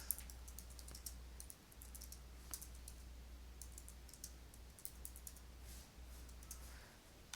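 Quick bursts of clicking keystrokes on a computer keyboard, close and fairly faint over a low steady hum, arriving in irregular clusters as a search term is typed.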